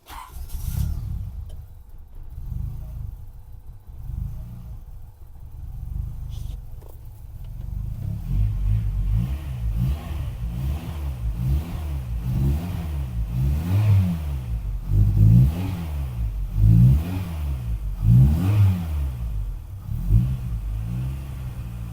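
A car engine struggles to hold idle after home-made ignition distribution timing work, starting as a low uneven rumble with sputters and then breaking into a series of loud, rhythmic revs that rise and fall repeatedly, close up and with no voices.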